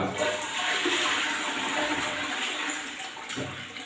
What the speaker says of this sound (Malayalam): ഒന്ന് ഫ്ലഷ് ചെയ്ത് കൊടുത്തു കഴിഞ്ഞാൽ നീറ്റ് ആൻഡ് ക്ലീൻ ആയിരിക്കും ക്ലോസറ്റ്